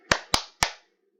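Three crisp hand claps in an even, quick rhythm during the 'tepuk pagi' clapping game, close and clear against silence.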